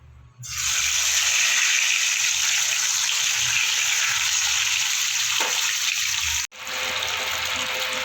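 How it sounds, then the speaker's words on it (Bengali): A large pomfret fish, fried one at a time in hot oil, gives off a loud, steady sizzling hiss. The hiss flares up suddenly, runs on evenly, dips sharply for a moment near the end, then carries on. "এবার আমি একটা করে মাছটা ভাজবো"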